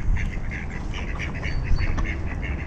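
Ducks in a Saint Petersburg park chase one another over puddles, giving repeated nasal quacks at close range over a steady rumble of wind or outdoor noise.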